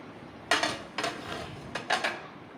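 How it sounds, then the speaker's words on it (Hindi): A tawa griddle pan shifted aside in a home kitchen during cleanup gives a few sharp metallic clanks and scrapes, close and moderately loud, spaced over a couple of seconds with quiet in between. "बस ये तवा रह गया था तो बस इसे भी साइड में कर देते हैं।"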